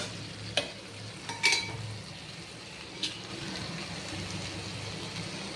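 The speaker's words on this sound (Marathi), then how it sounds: "पसरवून घेऊया आणि ह्यामध्ये आपण पनीरचे तुकडे टाकूया" Paneer pieces shallow frying in a pan for butter paneer masala, a steady close sizzle with a few stirring scrapes and clinks near the start.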